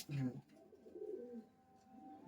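Large Giribaj pigeons give a quiet, drawn-out burbling coo after a brief spoken word, soft and close in a calm setting.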